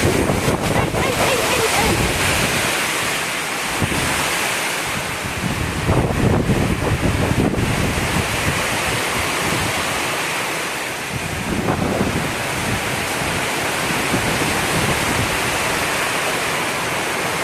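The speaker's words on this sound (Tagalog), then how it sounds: "Iba ang ulan. Nagdala ng hangin na malakas." Strong wind roars and buffets the microphone continuously, with a dense rushing wash like heavy rain underneath; brief faint voices come through.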